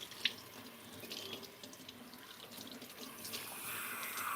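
Cold water running steadily from a tap while hair is rinsed at a sink, a soft continuous hiss and patter with faint splashes, fairly quiet and without talk.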